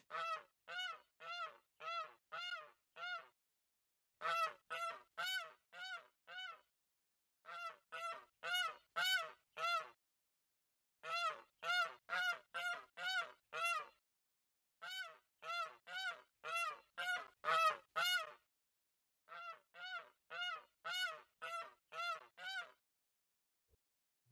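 Bird calls for a video game sound design demo: loud, clean goose-like honks arrive in rhythmic bursts of five to seven, separated by brief silences, with no voices.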